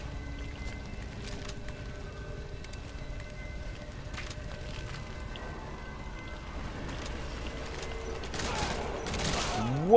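Gunfire in Metal Gear Solid V: The Phantom Pain, scattered sharp shots and bursts over a rumbling, busy background that grows louder toward the end, ending in a loud crack.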